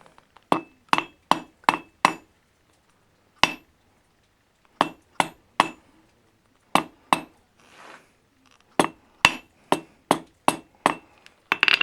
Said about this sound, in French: à l'extrémité je vais forger une pointe carrée